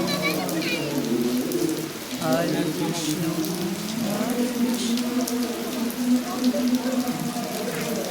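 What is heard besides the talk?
rain falling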